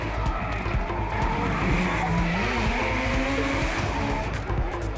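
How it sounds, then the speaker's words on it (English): Nissan S15 drift car at Pukekohe Park Raceway in a D1NZ drift round, engine roaring steadily at high revs with continuous loud tire squeal and skidding throughout, close and dense. "A big entry for the People's Champion Nico Reed in the Evergreen Tyres Nissan S15"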